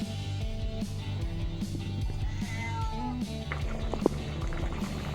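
A cat meows a few times, softly and fairly close, in a kitchen while borscht is cooked, over a quiet background with a faint hum and some liquid trickling.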